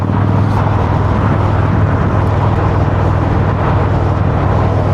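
An Indian Chieftain motorcycle with a Fuel Moto tune accelerates hard in sport mode, a loud, continuous engine drone mixed with heavy wind rush heard from the rider's position.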